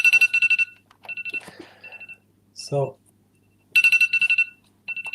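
A mobile phone rings with bright, repeating electronic ringtone bursts in two rapid patterned rounds separated by a pause; a voice briefly speaks between them.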